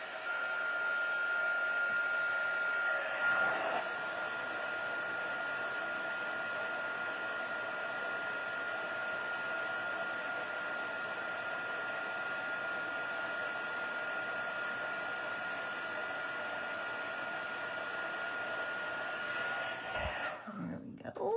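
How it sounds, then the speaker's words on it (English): A craft heat tool blowing while embossing a stamped card, heard as a loud, constant whirring hum with a steady whine that runs alone until it cuts off near the end. "we take our heat tool and make a whole lot of noise"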